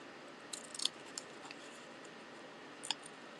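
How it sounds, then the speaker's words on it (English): Scissors fussy-cut a small paper drink image, giving a few faint, crisp snips clustered early, one more shortly after, and a final snip near the end over a quiet room hiss. "very quickly going to fussy cut this little drink"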